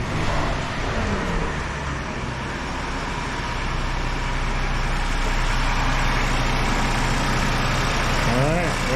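A 2020-or-later Ford Explorer engine idles in a smooth, steady, low hum that holds evenly throughout at close range, with a faint rise of background noise near the end.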